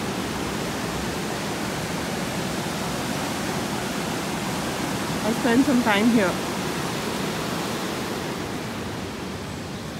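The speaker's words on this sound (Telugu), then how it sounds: "ఫ్లోయింగ్ వాటర్ని చాలా ప్రశాంతంగా అనిపిస్తుంది" River water flows under a bridge along a walking trail in Germany, a loud steady broadband rush that fills the whole stretch, with a person briefly speaking over it partway through.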